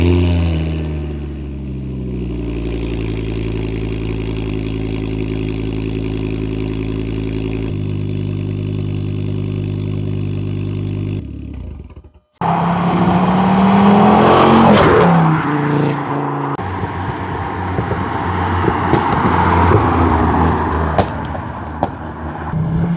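A Mk2 Ford Focus ST225 turbo with a 3-inch KMS downpipe and full turbo-back exhaust. A steady droning tone cuts out briefly, then the engine fires with a loud, broad burst and settles into a rumbling idle.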